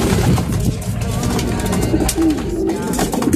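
Pigeons coo steadily at a loft in San Ildefonso, Bulacan, their low, throaty calls close and continuous over a dense background of fluttering and general bird noise.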